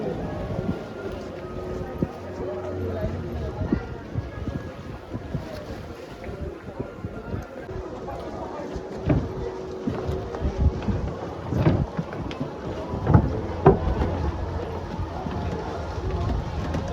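A boat ride out to the sea fort at Malvan on the Konkan coast, with a steady engine rumble, wind buffeting the microphone and rushing water, plus occasional voices and knocks mixed in.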